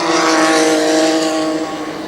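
ARCA stock race cars run side by side around the Kil Kare Speedway oval, a loud, dense engine roar with steady whining tones that holds strong before easing slightly at the end, with no voices.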